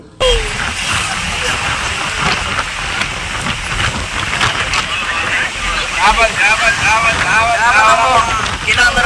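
Boat moving across water: a steady rush of wind and water noise throughout, with chirping tones rising near the end.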